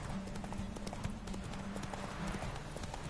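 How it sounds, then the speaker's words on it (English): Horse hooves clip-clop in a steady galloping rhythm during a race in the video game The Witcher 3, moderately loud and continuous over a low ambient bed. "It's nice having a bit of a horse race"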